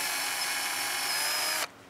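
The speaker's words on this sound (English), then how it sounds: "We can see we want to drill in to the point that we've gone into the cambium" Power drill boring into a tree trunk to about 1¼ inches deep for wood borer treatment, a steady close whine that cuts off abruptly near the end.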